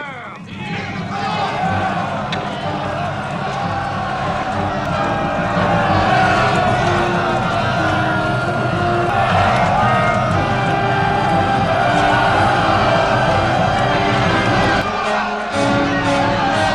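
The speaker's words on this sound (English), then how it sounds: "building and building as the troops cheer their emperor" Troops cheer their emperor in a battle scene from the film Napoleon (2023), a massed roar of shouting soldiers that swells and holds steady under orchestral music.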